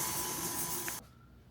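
An electric mixer whirs steadily as it beats a buttery mixture, a dense hiss that cuts off abruptly after about a second.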